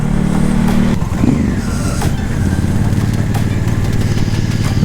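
A Honda Africa Twin motorcycle fitted with a Cordona quick shifter, heard up close as the engine runs loud and steady with a brief change in pitch near the start, as if shifting gear without the clutch.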